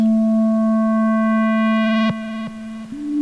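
A buzzy, grainy synthesizer tone holds steady, then stutters and steps in pitch with small glitches near the end; no voices.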